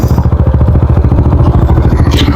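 A TVS Raider 125cc motorcycle engine runs close by with a loud, steady rumble and a fast, even throbbing pulse throughout.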